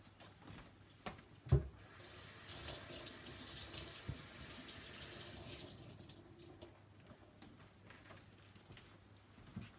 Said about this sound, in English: So right now I'm going to hold it under the tap.